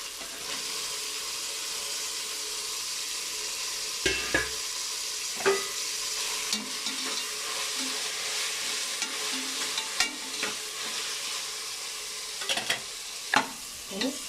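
Tomatoes sautéed for a soy bean biryani, a steady sizzle in the pan with a ladle scraping and stirring at intervals, close and fairly loud, no voices.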